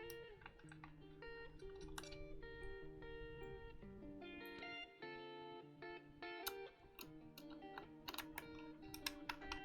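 Typing on a newly assembled Cerberus mechanical keyboard kit: quiet, fast, irregular keystroke clicks and clacks running continuously for nearly ten seconds, close and alone with no voices.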